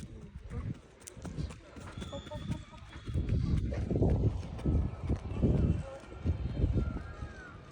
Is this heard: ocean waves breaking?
no